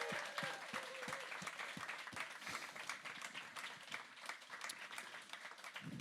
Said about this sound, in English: Please give all of our panellists a huge round of applause.